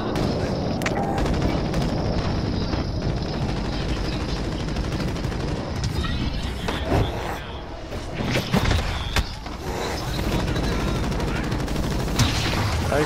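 Rapid automatic gunfire in a zombie-mode shooter game set in Verdansk, dense bursts of shots aimed at the player continuing almost nonstop, with occasional louder impacts and a voice briefly under the shooting.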